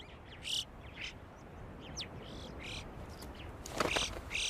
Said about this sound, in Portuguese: A gralha de bico amarelo é parente do corvo comum